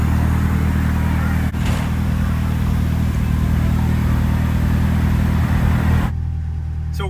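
A Ford Escort RS Turbo engine idles and revs with a steady, loud, close rumble that holds for about six seconds, then cuts to a quieter idle near the end.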